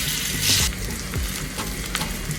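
Kebab patties frying in a hot pan for Mexican tacos, giving a dense, steady sizzle close up, with a brief brighter hiss burst and faint utensil movements.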